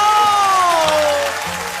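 A studio audience at a variety show bursts into loud, sustained applause for a diabolo and kuaibanshu performer, then tapers off slightly near the end.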